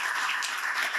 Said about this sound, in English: That applause is for VP of Enrollment Management, Ben Roden, and his amazing team